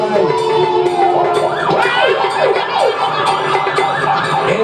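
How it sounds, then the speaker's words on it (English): Wailing ambulance siren sweeping up and down in repeated cycles during a Ramleela performance, loud and close, with sharp clatters and other noise mixed in. "The ambulance!"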